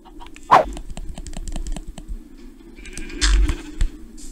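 Minecraft sheep bleat several times in the game, with a sharp loud call near the start and further bleats and clicks scattered over a quiet background.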